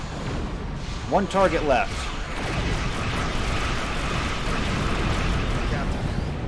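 Starship weapons fire in a Star Trek space battle, bursting into rumbling explosions over a steady low roar, while a voice speaks briefly in the middle.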